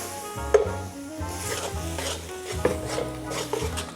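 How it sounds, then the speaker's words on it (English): Chili paste for Singapore chili crab being stir-fried in a pan, a steady soft sizzle broken by the scrape and knock of a utensil stirring against the pan at irregular intervals, close up with no talking. "You want to give the chili paste a good stir fry."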